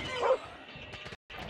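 A dog in an online shooter game lets out a short bark near the start, close and fairly loud, followed by steady game noise and a brief dropout.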